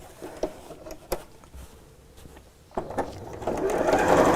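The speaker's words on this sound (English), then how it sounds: "I'm going to sew across the bottom and then just at the top here within the seam allowance" A sewing machine stitches across a quilted tote bag in short bursts with pauses between, then runs into a steadier, louder whir toward the end.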